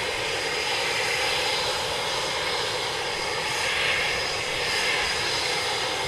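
An RAF military jet at RAF Coningsby, with its engine giving a steady, broad roar that holds at an even level throughout, heard at some distance with no talking.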